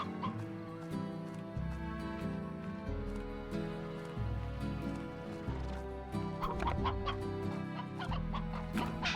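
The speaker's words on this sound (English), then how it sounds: "these guys are just feeding roosters to slimes" Roosters in the Slime Rancher video game cluck and crow repeatedly in a steady overlapping stream, moderately loud and close, over a continuous low game background with no voices.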